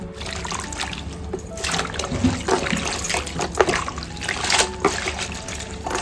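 Wild vegetables being swished by hand in a bowl of salt water: close, uneven splashing, trickling and sloshing with small drips, continuing steadily throughout.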